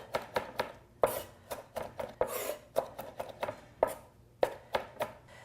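Knife chopping a big bunch of fresh cilantro on a cutting board, a series of sharp, close, irregularly spaced thuds and clicks about two or three per second, with no talking.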